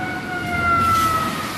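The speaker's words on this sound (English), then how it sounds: "Can you hear the sirens?" Tsunami warning sirens wailing over a Japanese coastal town, a sustained steady tone heard from a distance, with no talking.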